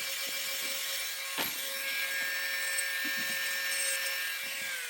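Steady abrasive rasping of a nail file shaping a fingernail to an oval, side to side, close and continuous for several seconds with no talk.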